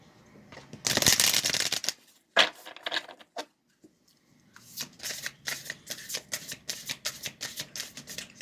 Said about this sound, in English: I'm going to go ahead and shuffle this one more time.